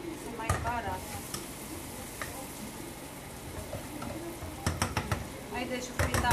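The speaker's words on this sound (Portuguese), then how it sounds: "Aí deixa eu fritar ali um pouco." Food frying in a pan while Greek-style rice is made at home, a steady sizzle with bursts of stirring and utensil scrapes, under occasional talk.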